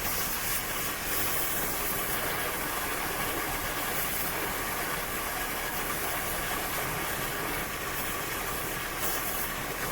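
A steady engine idles throughout as a constant broadband rumble with no change in pitch, heard alone with no voices.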